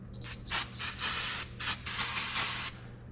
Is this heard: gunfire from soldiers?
no